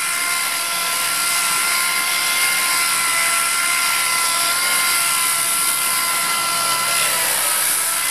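A power tool grinds a custom FRP body for a small Japanese kei truck, making a loud, continuous high-pitched whine that stays steady and close for the whole stretch.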